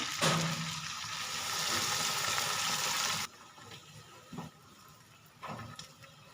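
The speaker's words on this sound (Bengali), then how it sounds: "বড়িগুলোকেও দিয়ে দেবো এবার দিয়ে দেবো জল" Water is poured into a pan of simmering bean, potato and lentil-dumpling curry with a steady rushing splash that stops abruptly, followed by faint bubbling and a few soft clinks.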